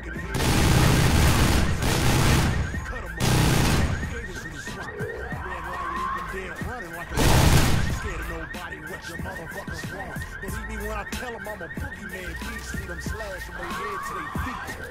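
In the video game Dead Island: Riptide, an alarm blares in a rapid, steady warble throughout, while loud booming bursts like gunfire erupt three times in the first half.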